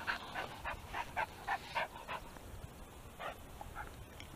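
Hunting dog on a collar snapped on each side during whoa training, giving a string of short whimpers, yips and pants close by, in quick bursts that fade into softer breathing near the end.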